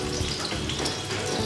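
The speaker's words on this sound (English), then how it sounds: "I'm going to grab the onions and I'm just going to put them in" Steady, dense sizzling of onions stir-frying in a hot wok, close and continuous, with a faint watery hiss and no talking.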